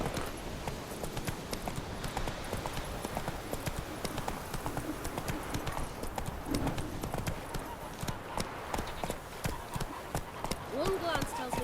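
Roach the horse gallops in The Witcher 3, with rapid, steady hoofbeats running loud and close throughout, while background game sounds and a voice come and go over the pounding rhythm.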